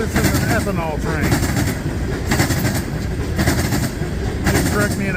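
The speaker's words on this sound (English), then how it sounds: "This is an ethanol train." Ethanol tank cars on a freight train roll past close by, a steady loud rumble with rhythmic clickety-clack of wheels over rail joints repeating throughout.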